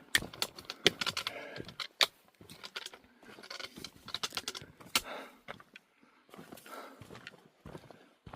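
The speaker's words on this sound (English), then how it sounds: "Sorry for the clickety clack, that's my trekking pole." A trekking pole clicks and clacks on a rocky Appalachian Trail descent, the sharp taps arriving in irregular bursts close to the microphone, with no talk.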